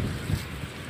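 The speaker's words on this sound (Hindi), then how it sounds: "बहुत ठंडी हवा चल रही है" Cold wind blows outdoors near fast-flowing water, a steady, loud roar of rushing air buffeting the microphone throughout, with no talk.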